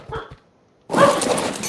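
Wolf in the video game Ark Ragnarok giving a single loud bark after a short faint sound and brief silence.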